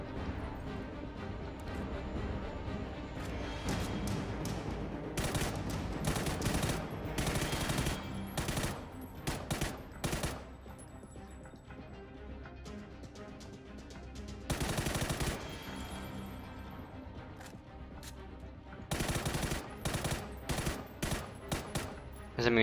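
PUBG Battlegrounds training-range gunfire at targets: loud bursts of automatic rifle fire and single shots in rapid strings, broken by short pauses and continuing throughout the clip.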